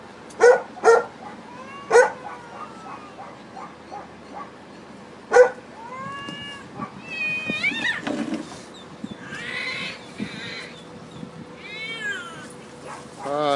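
A distressed cat meows repeatedly during a rescue, loud sharp cries at first and then rising, wailing caterwauls mixed with barking, all close and with no talk.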